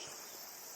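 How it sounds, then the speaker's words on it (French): Crickets chirping in a park on a summer evening, a faint, steady high-pitched trill with no voices. "Il y a plein de grillons, vous devez sûrement les entendre."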